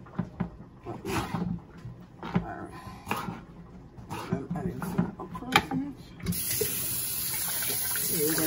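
Vegetables for Jamaican pumpkin soup being washed under a running tap, with a steady close stream of water filling the second half after scattered kitchen knocks and rustles, and a voice talking over parts of it.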